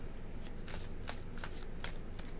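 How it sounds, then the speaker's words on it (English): Tarot cards being shuffled in a few quick riffled bursts, crisp papery flutters spaced through the moment, close and fairly quiet over a steady low room hum. "Let's do 3 shuffles."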